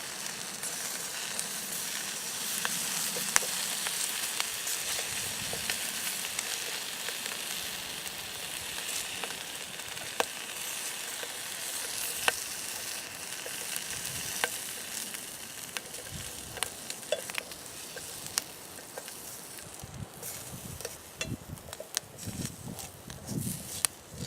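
Food sizzles in a small aluminum fry pan at a Flint Hills campsite, a steady crackling hiss running throughout, close and moderately loud, with occasional sharp pops and a few low knocks and footstep-like thuds.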